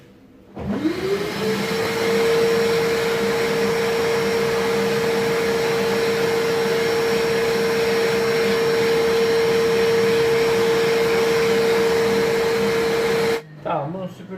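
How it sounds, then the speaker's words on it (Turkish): A Fakir Heroic 2400W vacuum cleaner starts up with a rising whine, then runs at a loud, steady roar with a sustained high tone while sucking up dust, cutting off abruptly near the end. "Bakın üzerine tozlar birikmiş. Şunları bir süpürelim."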